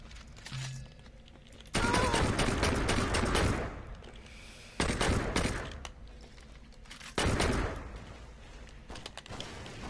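Armed homeless people open fire in Saints Row 2, three heavy bursts of gunfire, each a few seconds long and loud and close, with quieter gaps between them and no talk.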